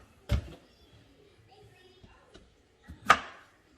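A kitchen knife strikes a cutting board twice, two sharp separate chops with quiet rustling between them, close by and with no talk.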